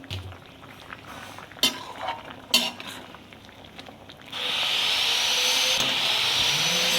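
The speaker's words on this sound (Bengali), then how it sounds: "নেড়ে চেড়ে নেবো" Fish roe fritters are stirred in a curry in a pan. A spoon knocks sharply against the metal twice, then a broad, steady hiss of cooking rises and holds, with no talking.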